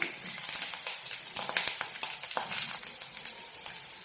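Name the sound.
onion and green chili sautéing in oil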